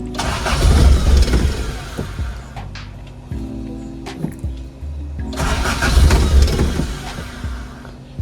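A Toyota KE70 car engine with a fouled spark plug cranks in loud bursts, catches and runs roughly, then cranks and fires again toward the end, close to the microphone with no talk over it.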